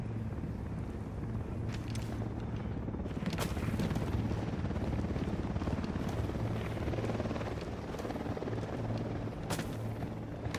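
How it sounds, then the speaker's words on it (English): A helicopter from the video game Ghost Recon Wildlands drones steadily overhead, its low rotor rumble and engine whine holding constant throughout with no voices over it. "Chopper, down, down."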